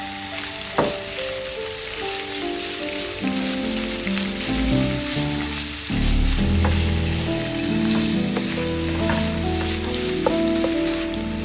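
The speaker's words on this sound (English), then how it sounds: "Add the minced pork and cook until no longer pink." Minced pork fries in a hot pan, a loud continuous sizzle with spatters, and stirring and scraping shifts partway through, close and steady.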